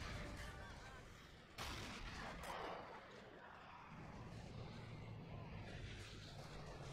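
Mortar artillery fires in a World War II video game battle set in Berlin's industrial sector in 1945. Heavy booms thud out over a rumbling battlefield background, and a faint voice speaks now and then.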